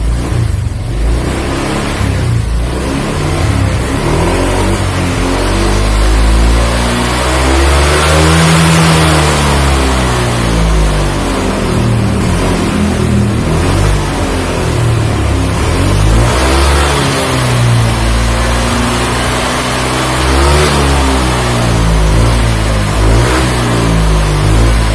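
A car engine is revved repeatedly while its TPS throttle sensor is tested, rising and falling through several long, loud swells of acceleration close to the microphone, with no speech over it.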